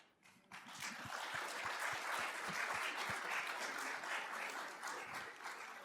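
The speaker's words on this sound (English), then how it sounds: "we applaud Sean for being so very good at his job" A meeting audience breaks into applause for Sean, the clapping rising quickly and holding at full strength for several seconds, dense and fairly close.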